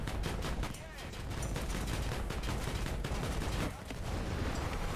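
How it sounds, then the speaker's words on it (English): Autocannon fire in the video game War Thunder, an April Fools mobile infantry mode: dense, heavy rapid bursts almost without pause, loud and booming, with a brief dip before continuing. "because it's an autocannon"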